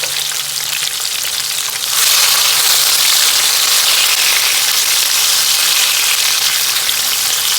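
Onions and tomatoes hit a hot pan for an African dish, bursting into a loud, steady sizzle after a quieter opening and crackling on continuously nearby with no talking.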